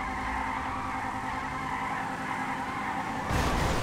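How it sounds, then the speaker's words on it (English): A stolen car in a police role-play video game spins donuts, its engine droning steadily with a long tire squeal and skid that swells louder near the end, and no voices. "I'm going to do another donut here."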